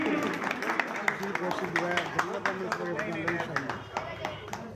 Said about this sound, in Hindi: पूरे तालियों से स्वागत, तालियां बजती रहेंगी।